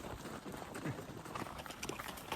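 Horses' hooves clip-clop along a mountain road in Mongolia, a faint, uneven rhythm of steps heard at a distance.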